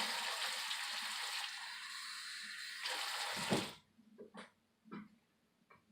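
Lukewarm tap water running into a container for watering seeds indoors, a strong steady gush that cuts off sharply, followed by a few faint splashes and knocks.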